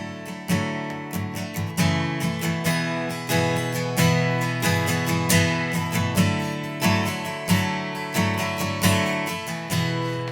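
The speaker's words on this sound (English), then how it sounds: "So a basic strumming pattern you could use for this song is," Steady acoustic guitar strumming in a slow, even down-up pattern, full chords ringing close and loud, with no voices.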